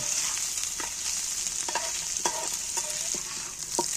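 Cut boiled eggs fry in hot oil with curry leaves, giving a steady bright sizzle, while a utensil knocks against the pan every half second or so, close by and with no voices.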